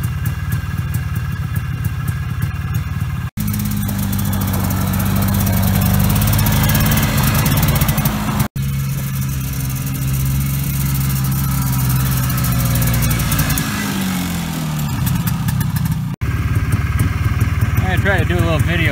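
A Polaris Trail Boss four-wheeler engine runs as the machine is driven, a loud, low, rough drone that rises and falls, broken by a few short gaps, with a voice talking over it.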